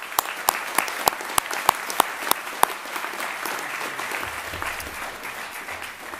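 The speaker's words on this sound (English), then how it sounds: "Join me in a round of applause for these guys, please." Applause from an audience fills a spring commencement ceremony for Master of Science in Finance graduates, opening with several sharp, loud individual claps and then settling into a steady, moderate wash of clapping that carries on for several seconds.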